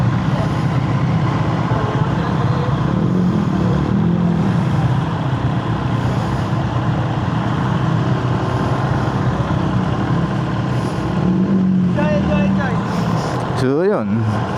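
A Trident 800 marine engine, stock with its cooling system, idling under test: a continuous low, even motor drone running throughout at close range, with someone talking over it and a brief clatter near the end.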